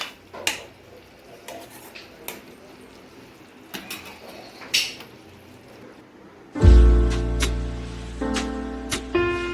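A spoon stirs dum aloo with curd in a pan, making sparse, close clinks and light scrapes against the metal, before a loud, ringing tonal passage takes over.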